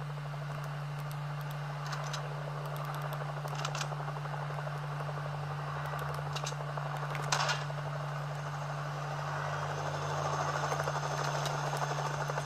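A helicopter in Fortnite gives a steady low rotor drone throughout, moderately loud and unbroken, with faint clicks and short game noises scattered over it and no talking.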